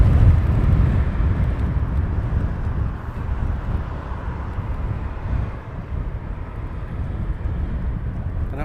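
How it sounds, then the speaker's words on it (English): Strong wind buffets the microphone at Heathrow Airport, a continuous low roar with rumbling gusts and no clear breaks, loud and close. "that wind is certainly picking up again"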